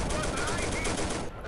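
Rapid, dense machine gun fire from a Pz.38 light tank in Steel Fury Kharkov 1942, a loud continuous burst close up, cutting off abruptly near the end.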